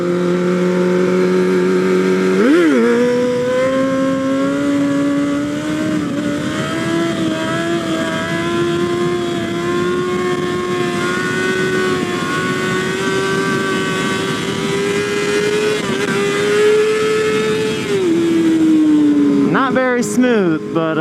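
A Nissan 370Z drives steadily, its engine drone holding a near-constant pitch with a slight rise over about twenty seconds, close and loud, before a brief change near the end.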